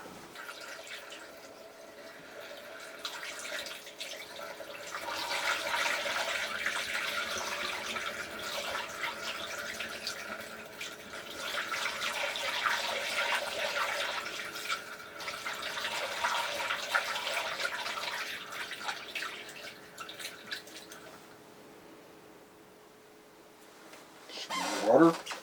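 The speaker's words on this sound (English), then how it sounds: "Added more water to it and topped it off" Water pours steadily into a homebrew beer bucket for about twenty seconds, a hissing, splashing rush that rises and dips, then stops, followed by a short clatter.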